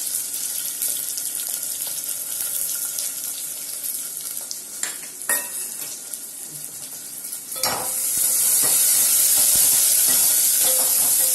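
Garlic and onions fry in hot oil in a pan, a steady close hissing sizzle with scattered pops and scraping, swelling louder toward the end.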